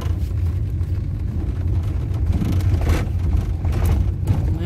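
A car engine drones and rises as a learner driver presses the gas, a steady close low rumble swelling in a few surges without any voices.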